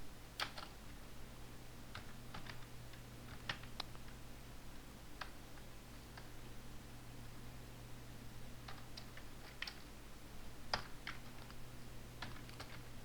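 Keys clatter in quick irregular bursts as code is typed on a computer keyboard, with a steady low fan hum running underneath throughout.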